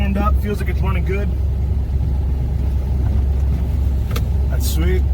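A warmed-up truck engine idles steadily with a constant low rumble close by, while someone talks over it.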